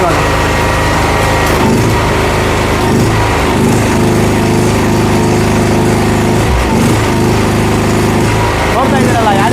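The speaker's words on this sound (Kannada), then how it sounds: "ಇದು ಬಂದು 230 ಆ್ಯಮ್ಸ್ ವೆಲ್ಡಿಂಗ್ ಮಿಷಿನ್ ನಾನು ಯೂಸ್ ಮಾಡ್ತಾ ಇರೋದು" A 7.5 kVA welding generator runs steadily during arc welding with a 230-amp welding machine, its loud, continuous engine drone holding close and constant throughout, with faint voices underneath.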